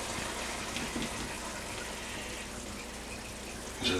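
Liquid from a Dutch oven pot of stew vegetables being poured off, a steady close gushing, splashing flow that runs continuously and ends with a brief louder clatter.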